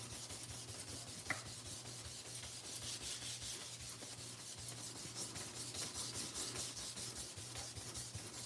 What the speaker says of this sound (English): try to get to rub as much as I can onto the gel plate